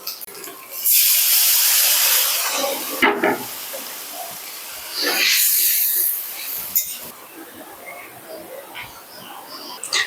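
Water poured onto hot fried masala for pakhal fish teljhal, erupting in loud bursts of hissing steam that surge and fade in waves, with quieter bubbling sizzle between the bursts.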